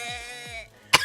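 One sharp, close cough bursts out alone after a stretch of voiced, bleat-like sound, in a casual podcast setting with two women chatting.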